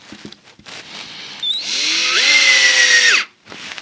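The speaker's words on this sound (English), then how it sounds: "Just drill it down." A power drill driving screws whirs up to speed and runs steadily for over a second before winding down, with a few knocks just before it.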